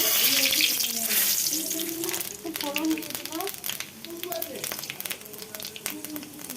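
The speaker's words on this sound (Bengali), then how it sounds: "ফোড়ন দিয়েছি এখন" Whole spices tempering in hot oil in a wok after fish has been fried, giving a steady sizzling hiss throughout while a voice talks over it.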